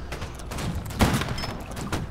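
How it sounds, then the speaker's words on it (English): Musket volleys in the online battle game Holdfast: Nations at War, a steady crackle of distant shots with one louder, closer bang in the middle, set against constant battlefield ambience. "Oh, I saw gunfire!"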